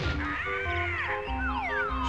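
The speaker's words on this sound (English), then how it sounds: "Stupid birds." Cawing birds in the video game Banjo-Kazooie, a series of loud, close, squawking calls with sliding pitch layered over game music.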